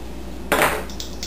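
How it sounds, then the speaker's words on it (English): A pastry blender cuts vegetable shortening into flour for English cream scones, giving one brief scraping, crumbly burst followed by a few faint softer scrapes, close and alone. "So you just want to cut up the vegetable shortening until it resembles coarse meal."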